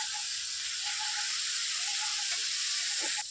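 Spiced masala and fried potatoes sizzling in oil in a pan, a close, continuous bright hiss of frying with faint stirring scrapes near the end.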